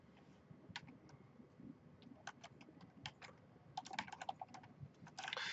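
Typing code on a computer keyboard, a quick irregular patter of close key clicks that grows denser and louder toward the end, with no voice over it.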